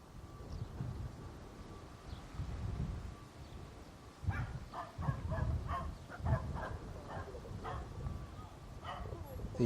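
Several dogs bark in short bursts near Bristol Airport, the barks fairly close and repeated over steady low outdoor rumble.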